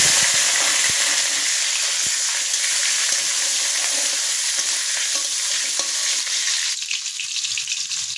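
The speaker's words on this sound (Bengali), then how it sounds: "তেল গরম হয়ে গেছে, আমি একটা কাঁচা লঙ্কা চিরা দিয়ে দিলাম। এবার আমি আলুটা দিয়ে দিলাম।" Potato pieces and a slit green chili fry in hot oil for a cauliflower and potato curry, a loud, steady close sizzle with faint stirring scrapes that eases slightly near the end.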